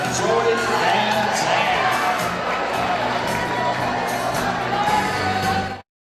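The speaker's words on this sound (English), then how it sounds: "a loud cheer from the Loyola student section" Loyola student section cheering loudly at a high school basketball game against Byrd, a sustained roar of shouting and whooping voices that holds steady for several seconds before cutting off abruptly.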